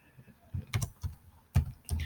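Computer keyboard typing: a handful of soft, close keystrokes in an uneven rhythm, with no other sound around them.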